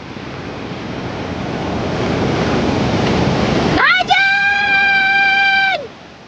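Big ocean waves surge and crash in a continuous roar at Bells Beach, with wind buffeting the microphone, before a loud whistling tone cuts in over the surf for the last couple of seconds.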